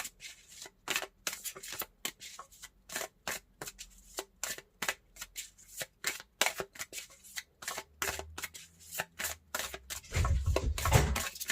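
A deck of Belline oracle cards is shuffled over and over in quick, crisp riffles and flutters, close and steady, with a heavier rustle of handling toward the end.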